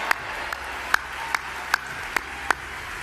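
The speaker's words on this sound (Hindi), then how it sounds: "भारत के लिए जमकर ताली बजाई" Sparse, evenly spaced claps celebrating India's cricket World Cup win, with about seven sharp hand claps over a low background murmur.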